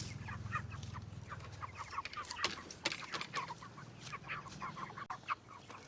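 Chickens shut in a heavy box cluck and squawk in repeated bursts, close and fairly busy, over a low rumbling background on a grassy farm.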